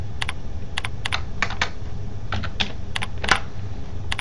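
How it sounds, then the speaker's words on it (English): Quick bursts of keystrokes on a computer keyboard, light clicky taps in short clusters separated by pauses, close and clear over a low background hum. "type in xming"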